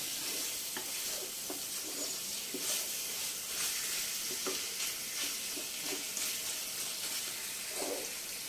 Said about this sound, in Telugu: ఈ ప్రాన్స్, ఈ ఉల్లిపాయ ఇవన్నీ బాగా వేగాలండి